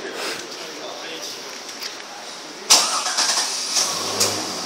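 A Chevrolet Corvette engine cranks and fires with a sudden loud burst, then settles into a rough, fluctuating idle with a few small revs, close by, with voices talking around it.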